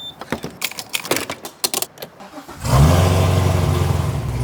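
A 1000-horsepower Corvette V8 fires up after a run of clicks and rattles, settling into a loud, deep, steady idle close by, with no talking.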